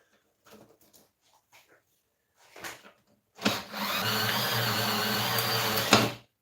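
A cordless drill spins a cable stripper, a steady loud whine and grind of about three seconds with a low hum beneath, following a few scattered quiet clicks and handling noises.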